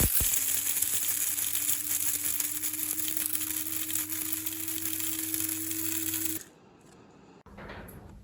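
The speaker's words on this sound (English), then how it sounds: "It's a coffee grinder, just had to buy it from Argos because the other one burnt out." A loud, steady whirring grind of a small electric coffee grinder crushing barley for about six seconds, then it stops, followed by faint handling clatter.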